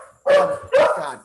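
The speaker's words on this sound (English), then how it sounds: "They only bark when I'm talking." Dogs barking: two loud, close barks about half a second apart, with nobody talking over them.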